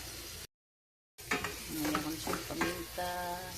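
Leftover fried fish with tomato is stirred in a sizzling pan, a close scraping and hissing fry that briefly cuts to silence, then resumes with clinking utensil sounds.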